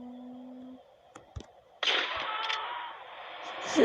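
Sniper rifle shots in GTA San Andreas, a couple of sharp isolated cracks followed by a louder sustained burst of game noise.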